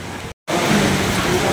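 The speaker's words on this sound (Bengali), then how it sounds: "প্রচন্ড বৃষ্টি হচ্ছে।" Heavy rain pours outside in a dense, steady hiss, loud and close, broken by a brief gap of silence.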